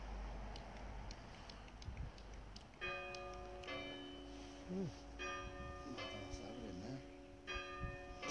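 A clock chimes late at night, a string of ringing bell tones repeating over quiet background hiss, with a faint murmur of a voice.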